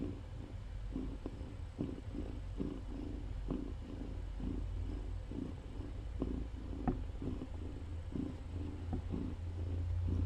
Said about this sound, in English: She's got a great purr.